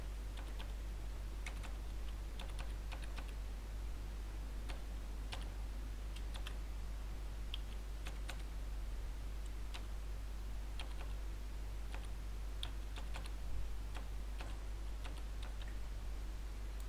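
Keys clack steadily on a computer keyboard while text is entered into an AutoCAD table, with irregular close clicks continuing throughout and no talk.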